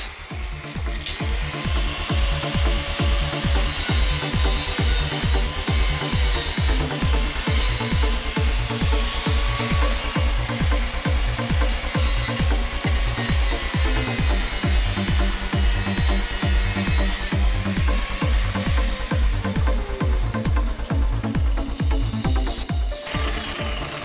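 A power tool breaks the welds on a turbo manifold log for an LS400 1UZ turbo build with a loud, continuous rapid hammering rattle throughout, and no one speaking.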